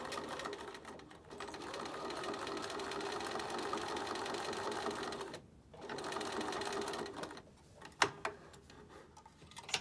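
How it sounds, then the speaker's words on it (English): A sewing machine stitches a knit beanie hat in steady whirring runs, close and moderately quiet, with a brief pause midway and a few clicks near the end. "we're going to take them to the sewing machine and sew them"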